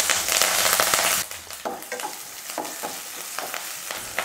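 A large onion and two green chilies drop into hot oil with popped mustard seeds and urad dal for a Tamil cluster-bean stir-fry, starting with a loud sizzling burst, then settling into quieter frying with scattered crackles and stirring.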